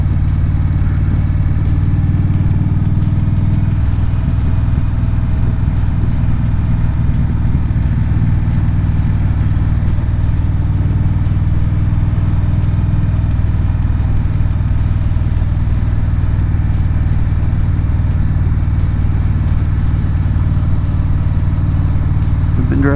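A car cruising on an open road, with a steady engine drone and tire rumble holding evenly throughout, close and continuous, no talk over it.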